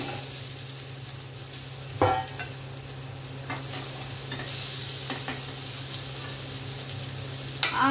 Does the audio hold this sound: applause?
no